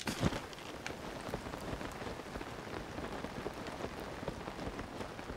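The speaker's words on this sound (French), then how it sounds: "Il fait que pleuvoir, c'est abusé." Steady rain in the video game Zelda: Tears of the Kingdom patters on surfaces, a dense continuous hiss of drops with a few louder splashes, alone and evenly loud throughout.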